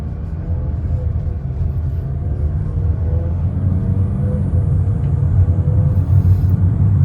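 A 2024 Mazda CX-50 with a SkyActiv automatic accelerates, its low engine rumble building steadily from inside the cabin with no talk.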